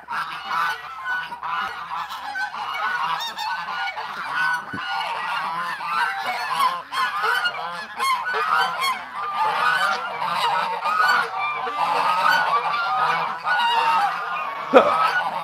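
A flock of geese honks continuously, many overlapping calls at moderate distance, a dense, noisy chorus with no pauses.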